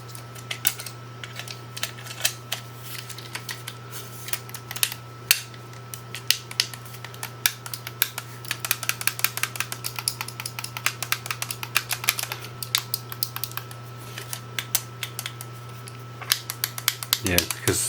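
Buttons on an Xbox Series Starfield Constellation controller clack and click repeatedly, quick rattling presses close to the mic over a steady low hum, growing busier toward the end.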